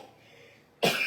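A single sharp cough bursts out close and loud after a moment of quiet room tone in a home kitchen.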